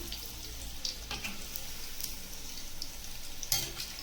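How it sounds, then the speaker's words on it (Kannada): Chicken kebabs fry slowly over a medium flame, giving a steady soft sizzle of hot oil with a few light scrapes and taps from turning the pieces, heard alone at moderate distance. "ನೋಡಿ, ಮೀಡಿಯಮ್ ಫ್ಲೇಮಲ್ಲಿ ನಿಧಾನಕ್ಕೆ ಈ ಥರ ಫ್ರೈ ಮಾಡ್ಕೊಳ್ಳಿ."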